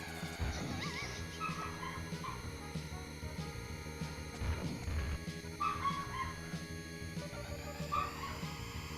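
Several dogs bark, yip and whimper in short irregular bursts, fairly faint and mixed with steady background tones and game sounds during an F-Zero stream.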